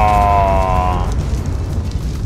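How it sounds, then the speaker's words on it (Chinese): A deep rumbling explosion rolls through the Ark Primal Fear mod game, with a tonal hum fading early and a heavy, loud boom sustaining throughout. "他爆炸是不是？"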